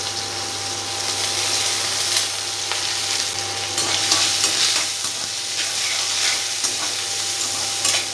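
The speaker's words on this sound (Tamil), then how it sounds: "பூண்டு, கருவேப்பிலை இது எல்லாத்தையும் போட்டு நல்லா கிண்டிக்கலாம்" Onion, garlic and curry leaves stirred in hot oil in a kadai, a steady close sizzle and fry with scraping stirs running continuously throughout, no voices.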